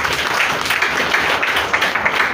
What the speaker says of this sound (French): Je vous demande d'applaudir cela.